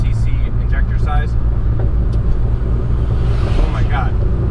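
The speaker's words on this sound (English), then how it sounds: "this car is going around the block, just smoking everything out" A modified turbocharged Honda Accord on 800cc injectors idles and rumbles steadily close by, a constant low engine drone with faint higher whines, while a person's voice is heard briefly.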